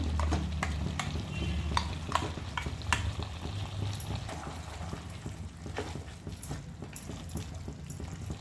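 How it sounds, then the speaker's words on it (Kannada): Ground masala paste frying in a pan for mutton pulav, a steady close sizzle with repeated scraping stirs and clinks of a spoon, no voices. "ಈಗ ರುಬ್ಬಿರುವ ಮಸಾಲೆ ಹಾಕ್ಕೋತಾ ಇದ್ದೀನಿ"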